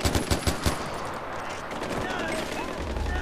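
Rapid bursts of AK rifle fire from the hip in the shooter game Far Cry 4, loud close cracks in quick succession fading into ambient game noise, with someone talking at the same time.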